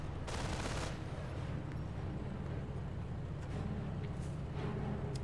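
Mortar half-track fire in the World War II strategy game Company of Heroes comes through as a dense, continuous battle din. Muffled gunfire bursts rumble over a low roar with no talk.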